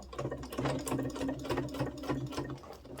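Sewing machine stitching a rank patch onto a military uniform, running in a fast, even mechanical rhythm of needle strokes, close by and unbroken, with no voices.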